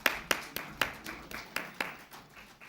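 Scattered applause from a small audience at a player auction, about a dozen distinct claps in an uneven rhythm, moderately near and light, with no talk over it.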